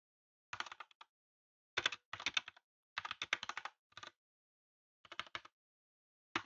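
Someone types a chat reply on a computer keyboard in quick bursts of crisp, close keystrokes, with short silent pauses between bursts.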